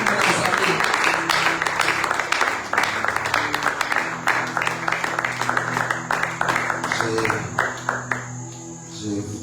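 Congregation applauding at an evangelical church seminar, steady dense clapping from a crowd throughout with cheers and voices mixed in, sustained at a fairly loud level.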